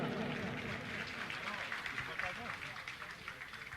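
An audience at a religious discourse gathering applauds, a soft, continuous patter of many hands heard faintly beneath someone speaking over it throughout.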